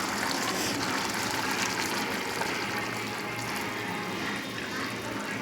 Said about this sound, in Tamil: இப்போ நம்ம அரைச்சிட்டு வந்திருக்க தேங்காவை ஊற்றிடலாம்.